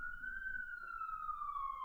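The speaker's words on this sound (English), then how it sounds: "Believe it or not, there's sirens. I do hear the sirens." A police siren wails steadily in the distance outside, a sustained high tone sliding slowly downward over low background rumble, with no talk over it.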